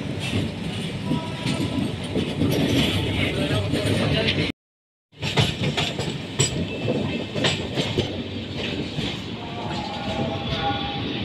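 Inside an AC coach of the 12061 Janshatabdi Express passing the outer signal at Itarsi, a steady loud rumble of wheels on rails with rhythmic clacks, briefly cut out, continuing without talk.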